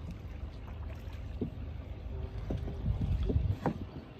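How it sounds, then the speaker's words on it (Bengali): Paddle strokes of a rowed boat splash and swirl in water at a steady pace, with wind rumbling and faint voices in the background. "নৌকা চালাইতে হইব"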